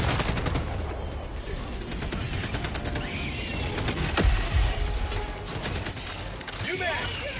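Rapid machine gun fire in Helldivers 2, bursts crackling amid battle noise with a sharp louder blast near the middle, and voice chatter underneath.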